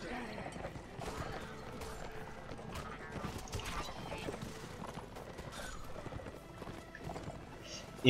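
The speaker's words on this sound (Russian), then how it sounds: "Лошадка вперед." Horse hooves clip-clop in a steady, quick gallop in the video game Last Days of the Third Age, a faint rhythmic patter under game noises and mechanical clatter, with no talk.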